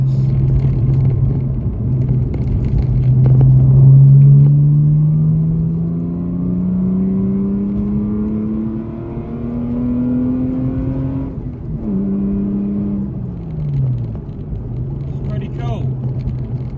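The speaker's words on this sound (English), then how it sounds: "This fob opens the valves to the exhaust, so it bypasses the baffles, which makes it sound like this." A deep, rumbling Mercedes W204 exhaust with bypass valves open revs up with rising harmonic tones, drops back, then climbs again; loud and close, a throaty engine note throughout.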